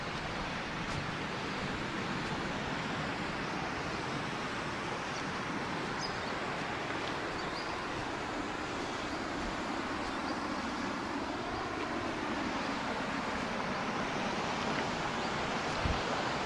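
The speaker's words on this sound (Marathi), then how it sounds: "नदीच्या पाण्याचा छोटासा प्रपात आपण म्हणू तो आवाज ऐका" A small cascade of water on the flooded Banganga river pours in a constant, even rushing roar, steady and unbroken throughout, with no voices.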